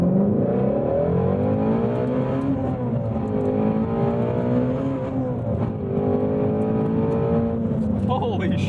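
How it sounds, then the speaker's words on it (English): A 2018 Ford Mustang Shelby GT350R engine drones steadily from inside the cabin, with harmonics shifting as revs rise and fall and a faint buzzing rattle mixed in, while someone talks over it. "you're gonna hear some rattling and vibrations coming through the shifter here"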